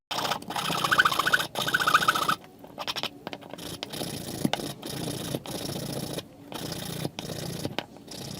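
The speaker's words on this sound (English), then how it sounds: "I'm sanding the excess off with a piece of 150 grit sandpaper, wrapped up in a file for a nice hard surface" Sandpaper of 150 grit, wrapped around a hard file, scrapes excess material off a 1:64 scale model car body in steady, close rubbing strokes broken by short pauses.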